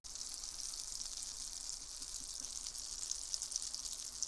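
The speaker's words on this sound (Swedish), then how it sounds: "Vi tar i det i stekpannan. Vi ska bara fräsa på hastigt och lustigt." Pieces of beef chuck fry in plenty of butter in a frying pan, giving a steady, soft, close sizzle with slight crackles throughout and no talking.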